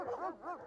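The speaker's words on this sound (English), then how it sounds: "let's do a dog bark in the distance here" A dog barks twice in quick succession as a sound effect, two short tonal yelps at moderate level with a slightly distant quality, heard alone.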